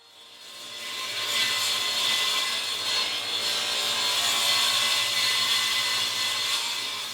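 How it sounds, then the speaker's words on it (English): A miter saw cuts old barn boards to length: a steady, gritty blade roar that rises in, holds for several seconds, then tapers off, close and loud with no voices. "I ripped a couple old barn boards down on the table saw and then cut them to length on the miter saw."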